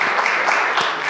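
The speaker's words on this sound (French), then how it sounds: "On applaudit pour maman pour l'encourager." Brief, steady applause from an audience at a Paris magazine launch event, continuous clapping close and fairly loud.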